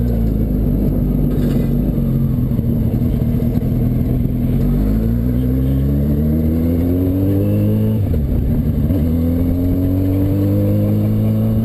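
A golf cart swapped with a Hayabusa motorcycle engine revs hard and accelerates on a test drive, its loud, close engine note climbing steadily in pitch, dipping briefly around a shift, then rising again.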